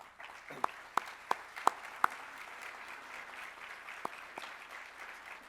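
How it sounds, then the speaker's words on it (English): A keynote audience at a conference in Atlanta applauds the host committee, soft spread-out clapping at a distance with a few sharp nearby claps standing out. "Let's give them a round of applause."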